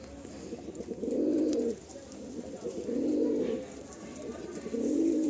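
Madrasi pigeons cooing close by, three rounded, throaty coos repeating at a regular, unhurried pace against a faint background.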